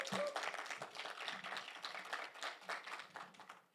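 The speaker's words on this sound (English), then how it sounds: "can we please give a round of applause for Ms." An audience at a Sunday morning church worship service claps continuously in dense, even applause that tapers off near the end, no voices over it.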